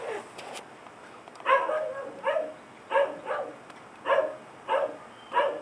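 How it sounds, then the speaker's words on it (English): A dog barks repeatedly in short bursts, fairly close, with a rhythmic pattern of about eight barks and brief pauses between them. "Now she's really barking."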